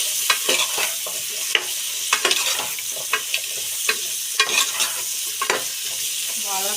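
A spoon stirs vegetable sambar in a pot, giving close, irregular scrapes and clinks over a soft bubbling sizzle, with no one talking.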